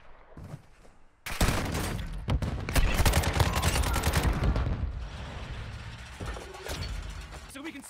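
Dense gunfire from Warzone Mobile gameplay erupts suddenly into loud, overlapping automatic bursts and impacts, then eases into scattered shots, with game voices speaking over the fight.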